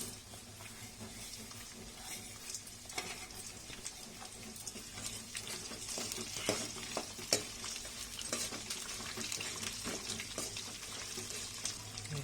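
Chana dal and urad dal dry-roasting in a pan, with soft scraping stirs and a light crackle throughout, quiet and close.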